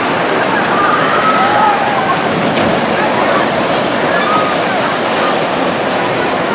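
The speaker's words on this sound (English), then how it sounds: "A good sized water flume." Continuous roar of churning, splashing water at a good-sized amusement park water flume at Knoebels in Elysburg, Pennsylvania, loud and steady with faint crowd voices.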